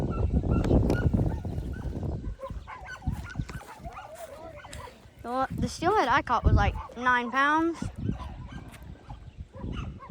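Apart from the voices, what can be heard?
dogs barking in a public park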